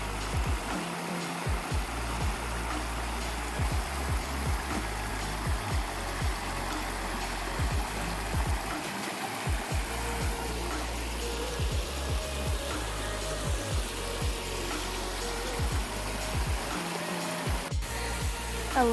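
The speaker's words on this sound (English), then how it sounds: "A little double waterfall." A small double waterfall along the Pacific Crest Trail near Trout Lake and Mount Adams gives a steady, even rush of falling water that holds without a break throughout.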